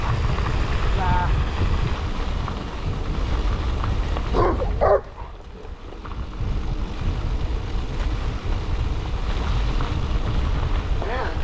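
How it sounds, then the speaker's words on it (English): A dog barks at mountain bikers on a trail, a few sharp barks near the middle among constant wind rush, with people talking. "Damn, that dog wanted my nutsack."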